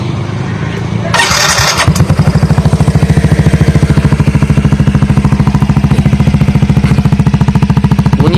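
Avantiz motorcycle fitted with ordinary accessory parts: a brief starter whir, then the engine catches and settles into a loud, close, evenly pulsing idle that runs steadily to the end.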